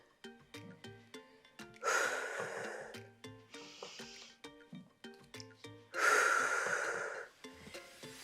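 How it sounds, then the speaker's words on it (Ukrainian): During a morning lymphatic-drainage exercise routine, two loud, deep breaths rush in and out close to the microphone, each lasting over a second, over a steady background of plucked music notes. "Вдих. Видих."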